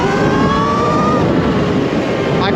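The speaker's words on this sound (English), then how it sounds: "when I put it in sport and really crank that power up" Talaria Sting electric dirt bike, an 82V build with Molicel pack and Torp controller, in sport mode: a loud, sustained whine climbing in pitch as it accelerates hard, steady and close throughout.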